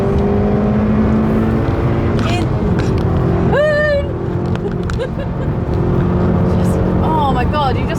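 Honda Civic Type R hot hatch driven hard, its engine droning loud and close with rising revs, accompanied by brief tire squeals as it turns into a corner.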